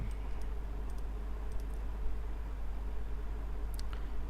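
Light computer mouse clicks, some single and some doubled, come at irregular intervals over a constant low hum and hiss, with no voices.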